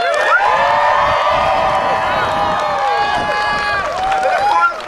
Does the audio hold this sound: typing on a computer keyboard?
no